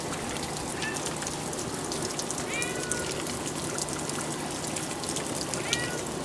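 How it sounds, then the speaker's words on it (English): A cat meows outdoors during heavy rain after a storm, several short faint cries spaced apart and somewhat distant, all under a steady hiss of falling rain and trickling water. "I hear it meowing, but he won't come here."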